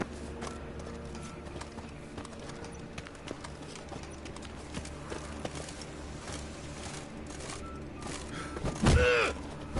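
Horse hooves clip-clopping and a short neigh in a PS4 video game, faint rhythmic hoof thuds running steadily under background game sounds, with a louder whinny burst near the end.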